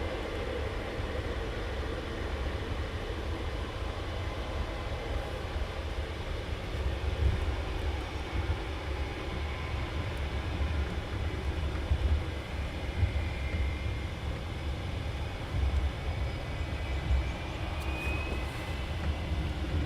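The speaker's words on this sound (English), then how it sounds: "Ryanair now taxiing on for departure." A Ryanair airliner taxis for departure at Luton Airport early in the morning, a steady low engine rumble and whine that holds for the whole stretch at moderate distance, with no voices.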